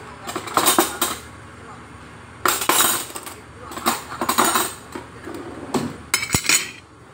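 Plates and cutlery clatter and clink in bursts while a kitchen snack of kolak mutiara is being prepared, with several loud sharp clusters of dish and metal contact spread across the moment.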